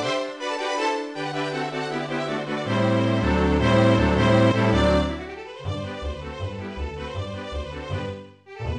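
Orchestral string section from first violins down to contrabass plays alone as sustained, layered harmonic chords, full and steady with a brief dip near the end.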